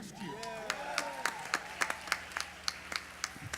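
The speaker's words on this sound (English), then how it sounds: "How about a bigger round of applause if you were with us" An audience at a live charity auction gala claps in scattered, uneven bursts of applause, with a voice audible at the start over the crowd.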